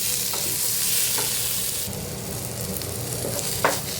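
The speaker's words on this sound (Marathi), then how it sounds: "आता याच्यामध्ये टोमॅटो घालते भाजायला टोमॅटो पण चांगला मऊ होईपर्यंत आपल्याला भाजून घ्यायचं आहे" Tomatoes roast in a pan for a spicy village-style egg curry, giving a steady close sizzle broken by a few soft scrapes of stirring, with no voices.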